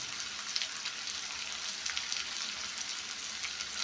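Salted onions fry in a pan for a tomato egg fry, giving a continuous soft, hissing sizzle without breaks, close by and with no voices.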